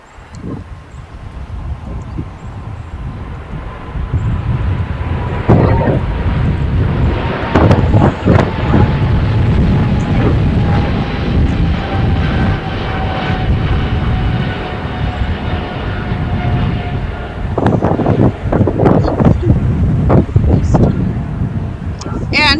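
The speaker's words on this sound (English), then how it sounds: "just departing over on the 25s here at LAX was China Airlines Cargo Flight 5137 back to Taipei on a Boeing 777 freighter" A China Airlines Cargo Boeing 777 freighter departs LAX, its engines a loud, sustained roar mixed with wind noise that builds and holds throughout, with a faint whining tone running across the middle.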